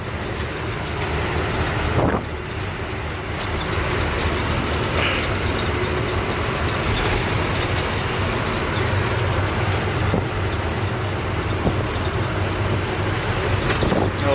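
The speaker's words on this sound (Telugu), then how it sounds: "ఇప్పుడు ఒకటి జీబో ఏమో వస్తుంది ఖాళీ జీబు" An empty jeep drives along a road at night, heard as a loud, continuous rumble of engine and tyre noise.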